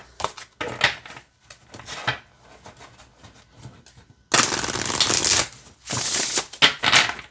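Quick bursts of oracle card shuffling: short riffling clicks early on, then louder, dense flurries of cards being shuffled close to the microphone.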